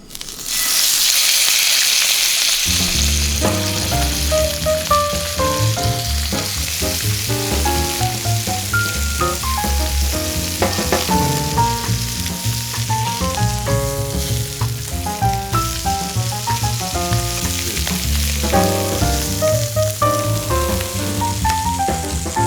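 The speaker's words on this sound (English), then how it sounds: "we're just going to sear them for about 1 to 2 minutes aside" Sous vide stuffed chicken breasts searing in a hot pan give a steady, bright sizzle that runs for the whole stretch, partly buried under continuous melodic background music.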